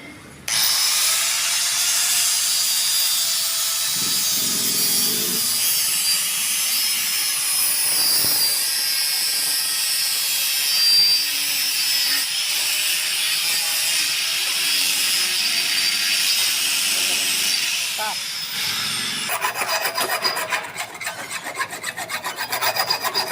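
A motorcycle clutch part is rubbed with a hand file in steady, continuous rasping strokes at close range, a brighter, harsher scraping burst near the end.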